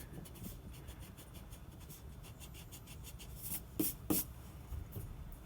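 A pencil scratches lines on paper with quick, faint strokes, followed by a few louder rubbing bursts as lines are erased, all close and quiet without speech.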